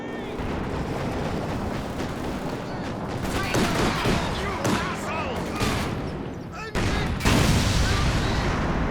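Vickers machine gun firing amid a Company of Heroes 2 battle, with dense bursts of gunfire and explosions layered under commentary throughout.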